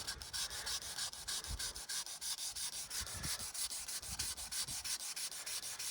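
Hand sanding of paint on a Mercedes C-Class during paint correction, a rapid rhythmic back-and-forth rubbing scrape repeating steadily and close up.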